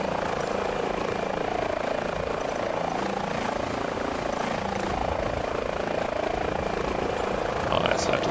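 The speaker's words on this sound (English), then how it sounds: "Let's put our helicopter down here for a second" A helicopter in a flight simulator game sets down near an airport, its rotor a steady, loud, close whirring thrum that holds throughout as it lands, with someone talking over it.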